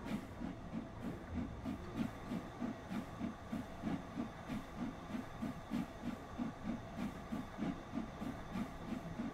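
Steam locomotive 3602 laboring up the steep Lickey Bank, its exhaust beating in a steady, rapid chuffing rhythm over a continuous hiss and rumble of rolling stock, heard fairly close throughout.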